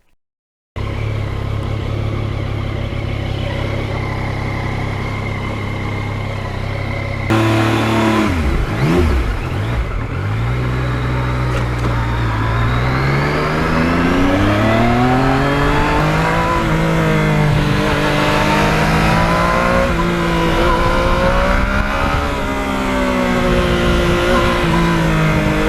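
A Yamaha MT-09 motorcycle idles with a steady low burble, then its engine is blipped and revs rise and fall repeatedly as it pulls away, loud and close throughout, with no talking.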